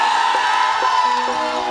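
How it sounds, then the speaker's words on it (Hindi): A crowd at a live stage show gives a loud, continuous roar of cheering and shouting, a steady wash of voices with occasional whoops rising above it. "एक बार कनी हल्ला क के ताली बजा दियो तो।"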